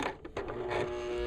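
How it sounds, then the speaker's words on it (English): A standard home sewing machine stitches a leather collar, giving a close, steady mechanical whir with a few quick ticking stitches at the start before settling into a continuous hum, with no one speaking. "with a standard home sewing machine, you can sew leather"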